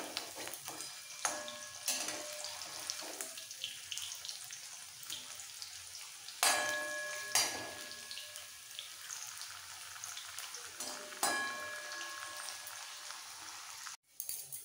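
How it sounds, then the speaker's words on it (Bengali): Bitter gourd slices crisp in hot oil in a pan over a medium-low flame with a continuous crackling sizzle, broken by sharp clinks and scrapes as they are flipped, close and alone. "এইভাবে একটু উল্টে পাল্টে ভাজলে একদম চিপস রেডি হয়ে যাবে"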